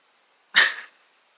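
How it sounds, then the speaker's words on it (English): A dreaming dog gives a single short, sharp huff like a snort or sneeze up close, then falls quiet in an otherwise silent room. "my dog was dreaming and like moving really weird, and it made me worried for a second"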